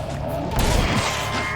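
Shotgun fire in the video game Splatterhouse (2010), a dense booming burst over a continuous loud game soundtrack, brief and up close.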